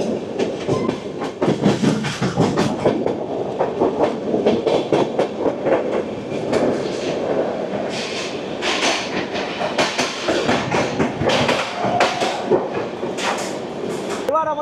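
A train runs across the Penna river bridge, a steady loud rumble and rhythmic clatter of wheels with bursts of rattling, and people talking over it at times.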